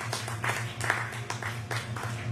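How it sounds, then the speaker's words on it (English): A comedy club crowd applauds a comedian taking the stage, a steady wash of many hands clapping at moderate loudness over a low hum, with no pause across the whole stretch. "Clap for Mick."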